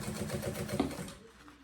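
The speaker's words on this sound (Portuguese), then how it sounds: "E quando a máquina começa a costurar, ela já prende lá no começo" A sewing machine stitches a banana bag, its needle clattering in a fast, even rhythm for about a second before stopping, leaving a quieter tail; close and clear, with no talk.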